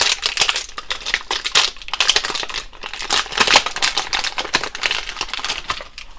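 An action figure is unboxed from taped-down plastic packaging: close, loud, continuous crinkling and crackling of plastic with sharp clicks and rustles, no voices.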